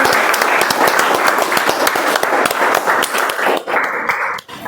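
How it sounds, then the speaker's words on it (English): A club meeting audience claps for the table-topic speakers, a lively, close burst of many hands with distinct individual claps, fading and thinning in the last second. "Can we have a round of applause for all the superheroes?"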